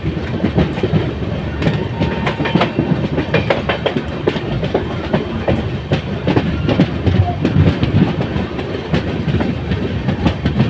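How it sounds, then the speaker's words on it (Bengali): The Padatik Express runs along the main line at night, heard from on board as a loud, steady rumble with continuous rhythmic clickety-clack of the wheels over the rail joints. "এই দেখো ট্রেনটা এখন আমাদের মেন লাইনে এসে পড়লো"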